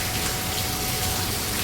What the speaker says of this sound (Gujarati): બહુ જ વરસાદ પડે છે આજે તો.